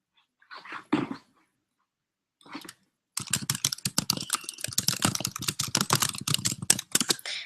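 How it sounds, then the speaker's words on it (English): Someone types on a computer keyboard, close and fairly quiet. A few scattered keystrokes come first, then a quick, continuous run of clicking keys. "I'm gonna type in"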